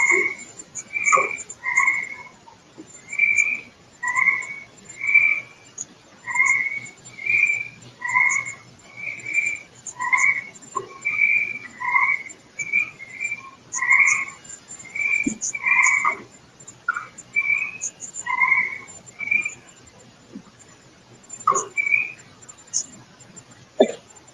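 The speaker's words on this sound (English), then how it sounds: "There's some frogs in this one." Frogs croak in a steady, rhythmic chorus of short two-part calls, repeating roughly every second for the whole stretch at moderate loudness against a quiet background.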